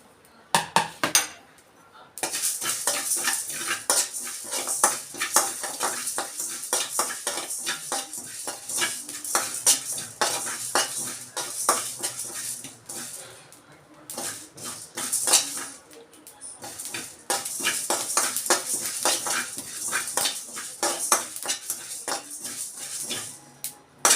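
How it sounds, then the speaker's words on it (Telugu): Coriander seeds and cumin dry roasting in a pan are stirred continuously, with dense scraping, rattling and clinking of a utensil against the metal over about twenty seconds, close and fairly loud, with brief pauses near the start and middle. "ధనియాలు జీలకర్ర వేయించుకోవాలండి దోరగా."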